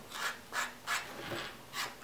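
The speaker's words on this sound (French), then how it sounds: "Avec notre papier de verre le plus fin, on va reprendre un tout petit peu le ponçage" Hand sanding with the finest sandpaper on a small glued and sewn pouch, five soft rasping strokes in a steady rhythm, close and quiet.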